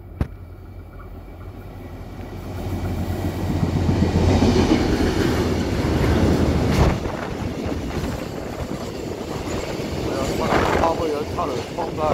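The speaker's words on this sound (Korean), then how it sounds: "화물열차 통과하겠습니다." A Korail freight train hauled by diesel locomotive 7358 rolls through Hallimjeong station, a rumbling, clattering rush that swells loud and lingers as the wagons pass, with a voice speaking over it.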